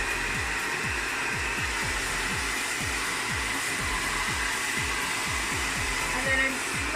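A handheld hair dryer blowing steadily and loudly up close while hair is styled over a round brush, a continuous whooshing roar with a faint recurring rhythmic pulse and no talking.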